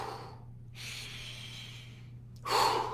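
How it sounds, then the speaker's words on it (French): Rapid, intense breaths drawn in through the nose during a breathing exercise, heard as loud close hissing sniffs separated by brief pauses, with a stronger final inhale. "on inspire par le nez, rapide, intense,"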